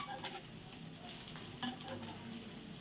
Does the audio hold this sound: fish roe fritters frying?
yes